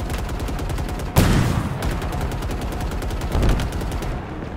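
Rapid automatic weapon fire from the video game Halo Infinite pours out in quick regular bursts, punctuated by two louder blast-like impacts and a brief pause before the shooting resumes.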